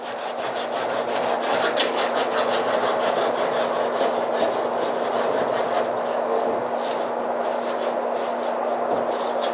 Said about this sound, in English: Anytime you're scrubbing something off with an acidic and an abrasive, and watered up aluminum foil is abrasive